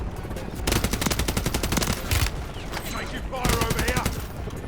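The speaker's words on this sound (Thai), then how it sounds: "ดูจากการยิงกัน" Gunfire in the video game Warzone: rapid automatic bursts and quick single shots follow one another with short gaps, loud and close, with faint voices now and then.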